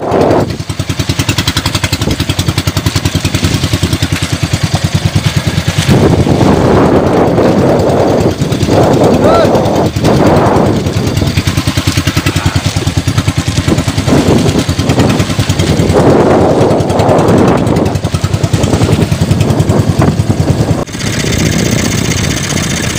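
A boat's motor runs loudly and steadily, chugging and rattling close by, with its pitch rising and falling as it revs, then dropping near the end.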